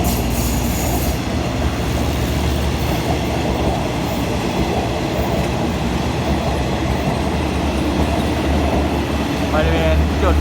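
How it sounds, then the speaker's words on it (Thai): A long Bangkok–Sungai Kolok passenger train rolls past nearby at a level crossing in Thailand, with a continuous loud rumble of wheels on rails and faint squealing, steady throughout. "ขบวนนี้ต้นทางกรุงเทพนะครับปลายทางสุไหงโกลก"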